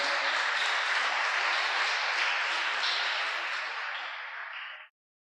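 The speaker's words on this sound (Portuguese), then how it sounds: "Dê forte esse aplauso." A church congregation applauds in a dense, muffled burst of clapping that stays steady, then thins and cuts off abruptly just before five seconds.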